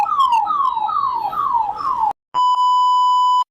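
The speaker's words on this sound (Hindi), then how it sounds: "भाई साहब, एम्बुलेंस ही फंस गई है, इतना ट्रैफिक हो रखा है पीछे।" An ambulance siren stuck in heavy traffic wails loud and close in repeated falling sweeps, then cuts off briefly before switching to a steady, piercing electronic tone.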